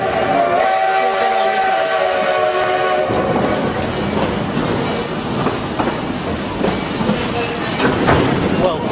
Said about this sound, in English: We're just coming over some switch track.